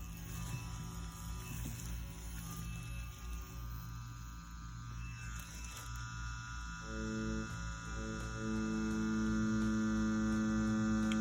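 A tattoo machine fitted with a standard 9-round shader needle runs with a steady electric hum and buzz, rising and holding level toward the end.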